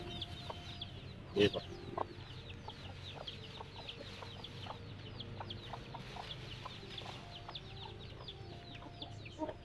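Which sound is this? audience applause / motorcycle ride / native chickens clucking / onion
native chickens clucking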